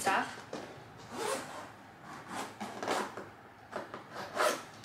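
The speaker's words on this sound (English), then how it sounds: "I'll zip this up." A CALPAK Kaya laptop backpack is zipped shut in several quick, scratchy pulls of the zipper, each a short rasping burst, close and clear with brief pauses between them.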